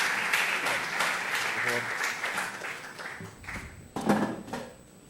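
An audience applauds to welcome a former manager of the Peruvian Football Federation at a football film festival panel, a steady stretch of broadband clapping with a voice and some stray taps mixed in toward the end.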